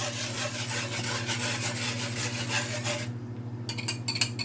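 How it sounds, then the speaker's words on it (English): Utensil scraping a pan while making gravy, a close, repeated rasping scrape for about three seconds, then a pause and a few quicker scrapes. "we just keep scraping"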